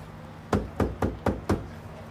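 Knocking on a door: five sharp, evenly spaced knocks in quick succession, close and distinct over a low steady background hum.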